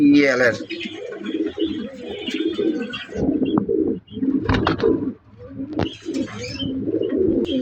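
Racing pigeons kept in a pigeon house coo in repeated soft, throaty phrases close by, with voices talking over them for much of the time.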